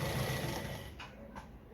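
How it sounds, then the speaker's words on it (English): A Lada model 233 sewing machine stitches through fabric at its longest stitch length, a steady close mechanical whir that runs briefly and then eases. "do some stitches with the machine"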